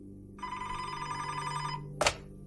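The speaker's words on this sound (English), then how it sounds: "Just then, Montano's phone rang." A telephone rings once in a sound effect, a steady trilling bell tone lasting over a second, followed by a sharp click like a receiver being picked up, all over a low hum.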